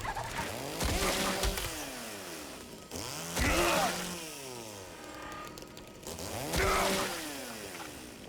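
A chainsaw in the Silent Hill 2 Remake revs in three repeated surges, each a loud rising roar that falls back to a rough idle, close and unbroken.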